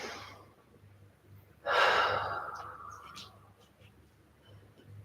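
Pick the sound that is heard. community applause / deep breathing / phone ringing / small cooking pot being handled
deep breathing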